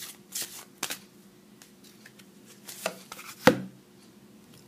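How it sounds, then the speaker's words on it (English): Oracle cards from a Doreen Virtue deck being shuffled, a few soft papery riffles and taps scattered across a quiet room, close and fairly faint. "One more card, Spirit, from Doreen Virtue"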